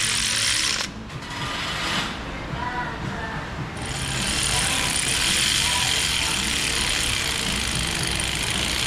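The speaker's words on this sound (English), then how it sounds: "I'm not torquing these with the electric tool. I'm just using this to run the threads down." An electric tool whirs and ratchets in steady bursts as it runs bolt threads down on a Pontiac Vibe, close and loud, with brief voices mixed in.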